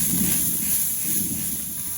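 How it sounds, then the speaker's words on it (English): A steady, close hiss of a spray bottle spritzing a blend of beef broth, Worcestershire sauce and soy sauce onto ribs, continuous for about two seconds with no talk. "I'm gonna do a spritz with a special blend of beef broth and Worcestershire sauce and soy sauce"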